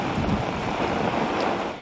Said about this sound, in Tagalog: Ramdam yan sa lakas ng mga alon at hangin.